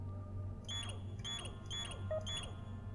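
Four evenly spaced electronic beeps from the DOOM 3 video game sound in a regular rhythm, bright and tonal, each with a falling tail, over a low steady hum.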